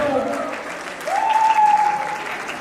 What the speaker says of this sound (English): So please give a big round of applause to all the men in the room.